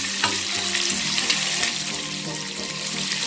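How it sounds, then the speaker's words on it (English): Onions with ginger and garlic sauté in a pan for Chinese idli, a steady close frying sizzle with occasional soft stirring clicks throughout. "For a little while only you saute the onions."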